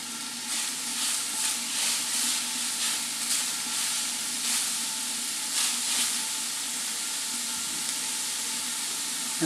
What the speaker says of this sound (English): So you just brown the ground beef with the onion.